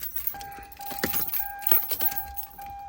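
Car keys jingle and clink in short bursts up close inside a 2009-2015 Kia Sorento or Hyundai Santa Fe, with a steady tone from the vehicle running faintly under the metallic rattles.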